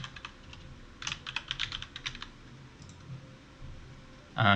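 Username being typed on a computer keyboard: a quick run of close, light key clicks in a short burst, then a few scattered taps and a firmer final keystroke, in an otherwise quiet room.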